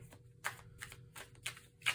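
Several quick papery riffles of tarot cards being shuffled in short bursts, close and fairly quiet, over a low steady hum.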